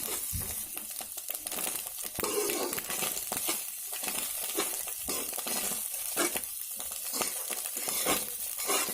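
Fried eggs seasoned with turmeric and salt sizzle in a pan while a spatula stirs and scrapes through them, steady frying hiss with repeated clinking scrapes, no talking.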